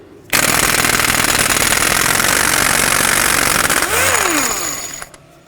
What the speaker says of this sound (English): use your 36mm socket and remove the axle nut